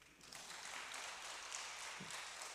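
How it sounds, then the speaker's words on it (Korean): Church audience applauding during a lecture, a steady wash of many hands clapping that fills the whole stretch at moderate, even loudness. "박수 한번 치실래요?"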